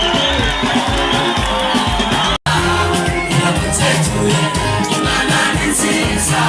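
A packed stadium concert crowd roars, cheers and claps in a loud, unbroken wash of noise over music, with a brief dropout partway through.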